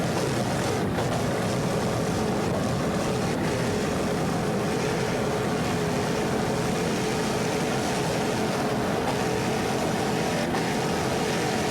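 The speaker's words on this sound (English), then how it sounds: "This Pier 57 is a 38-foot fountain powered by two 500 horsepower Vortec inboards" A 38-foot Fountain powerboat with twin 500 hp Vortec inboard engines races in a Daytona Super V class event, a loud continuous engine roar with broad wind and water rush and no pauses.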